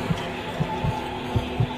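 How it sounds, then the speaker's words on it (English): A heartbeat effect in a VRChat horror game, a string of soft, low thumps in paired beats over a noisy background. "Heartbeat!"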